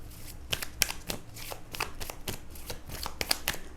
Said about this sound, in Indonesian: Bunda shuffle kartunya dulu Sobat Bunda untuk melihat asmara kalian ya.